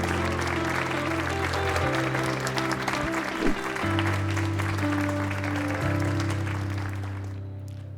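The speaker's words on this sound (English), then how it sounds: "Let's hear a round of applause to welcome Gideon Bass to the stage." Applause welcomes a competitor to the stage at a science communication competition finals, a steady audience clapping held for about eight seconds over a sustained low musical hum, tapering slightly at the end.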